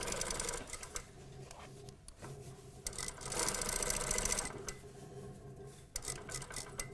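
A sewing machine understitches a pocket facing, running in close bursts of rapid needle chatter separated by short pauses, including a brief back tack.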